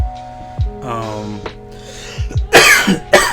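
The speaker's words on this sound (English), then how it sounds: "sorry about the coughing and half of my allergies" Allergy coughing from a streamer close to the microphone: a throat clear and a couple of short coughs, then two louder, harsher coughing bursts near the end, with a low background tone throughout.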